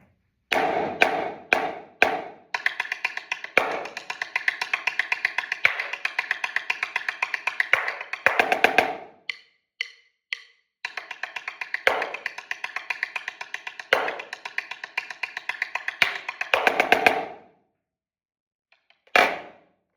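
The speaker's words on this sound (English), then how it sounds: "You don't need to move excessively up for these rim shots." Sharp, cracking snare drum rim shots in fast rhythmic bursts with short pauses between phrases, dry and close, no other instruments.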